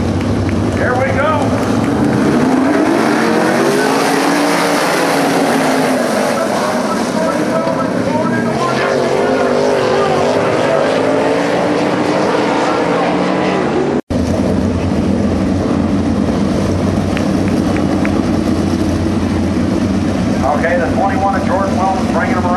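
Sprint cars roar around a dirt speedway at a UMSS race as the green flag drops, a loud, continuous engine drone that rises and falls as cars pass, with a brief dropout midway and people talking over it.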